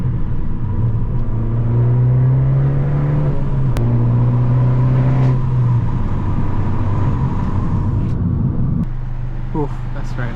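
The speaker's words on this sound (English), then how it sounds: "we're going to drop a gear" Fiat with a five-speed manual gearbox drops a gear on the motorway, engine revs rising steadily and loud from inside the cabin, then easing as road rumble continues, with some talk near the end.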